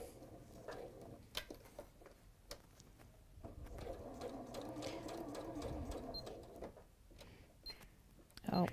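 A sewing machine stitches along a line drawn with a friction pen, its motor running in steady bursts close by, with a light click between runs.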